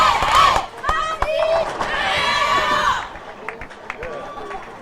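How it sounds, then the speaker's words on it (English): Crowd at a European youth bowling championship erupts in loud cheering and shouting after a strike in the last game, a dense roar with sharp yells that gradually fades. "And the crowd goes wild."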